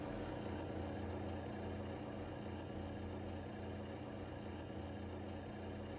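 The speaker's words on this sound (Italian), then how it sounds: "Questo è il momento più basso in cui il motore gira al minore numero di giri" A motorcycle engine idling at its lowest revs, giving a steady, continuous low rumble throughout with no voices.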